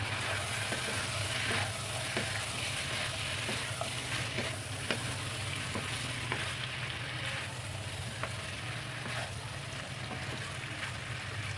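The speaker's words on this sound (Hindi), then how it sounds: "अब इसमें जाएगी मैकरोनी, इसको अच्छे से मिक्स करेंगे।" Macaroni with vegetables cooks in a pan with a low, steady sizzle, and faint scrapes and taps come as it is stirred at intervals.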